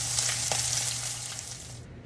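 Steak searing in a hot pan, a close, steady hiss of sizzling fat with a low hum underneath, crackling continuously then fading at the end.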